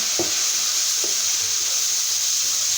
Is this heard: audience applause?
no